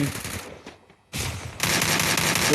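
Gunfire in the video game Free Fire comes in dense automatic bursts. There is a short lull, then sustained loud rapid fire picks up again and keeps going to the end.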